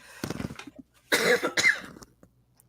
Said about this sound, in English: Sorry, folks, got a bad cough.